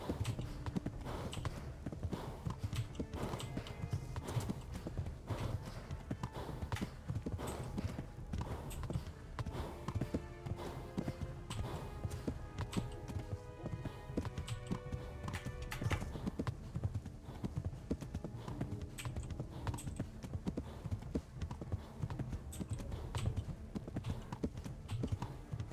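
Horse hooves clip-clop steadily in the medieval role-playing game Kingdom Come: Deliverance, a continuous near rhythm of hoofbeats running throughout over game ambience.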